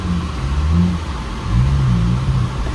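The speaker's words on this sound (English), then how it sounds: "Oh, there we go, we stalled again." A MK5 VW Rabbit with a fuel pump fault runs rough, its low engine rumble swelling and sagging unevenly as it struggles to stay running, steady and close with no talking.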